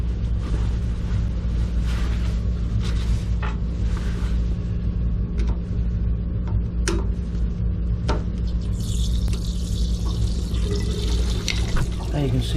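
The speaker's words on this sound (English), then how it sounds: "Now you can see the water is draining." Water drains from an electric water heater tank, a constant rushing, pouring flow with a low rumble, broken by occasional clicks and knocks, close and steady throughout.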